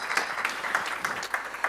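Conference audience applauds a speaker taking the stage at an open-source monitoring talk, a short, dense patter of many hands clapping at moderate volume with no speech over it.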